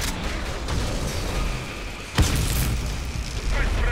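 A grenade launcher round explodes with a single sharp boom in the shooter game Warface, about halfway through. It stands above a constant wash of noisy game sound.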